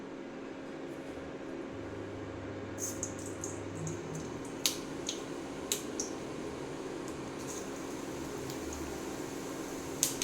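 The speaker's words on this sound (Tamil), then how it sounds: "கடுகு நல்லா பொரிஞ்சிடுச்சு." Mustard and cumin seeds spluttering in hot oil, scattered sharp pops and crackles rising over a steady hum of the stove, faint and close, the pops coming sparsely and irregularly.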